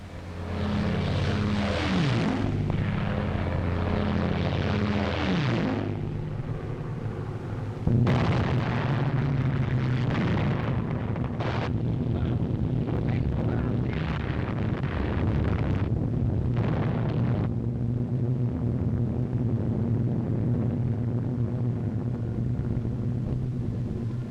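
A wartime film bombing raid by the RAF: droning propeller aircraft overhead mixed with repeated heavy explosions and bursts, dense and loud throughout, with engine drone continuing between the blasts.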